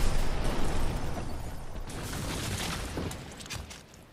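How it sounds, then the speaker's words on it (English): Explosion in the Batman: Arkham Asylum video game: a dense, loud burst of crackling debris and rumble right at the start, then a broad roaring decay that thins out over a few seconds with no talk. "Cool guys don't look at explosions."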